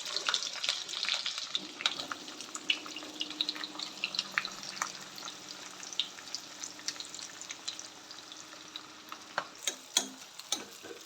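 Chopped onions frying in hot oil with cumin seeds and green chilies for a chicken curry, a close crackling sizzle with dense pops and spits that stays steady throughout.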